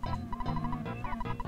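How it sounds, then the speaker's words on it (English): A chick on the player character in the EarthBound video game chirps with short, repeated electronic tones in a steady, loud stream against a busy game soundtrack. "It's because I have a chick on me. That, I mean, that is also making sound."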